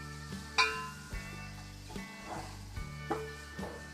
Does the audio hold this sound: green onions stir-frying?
yes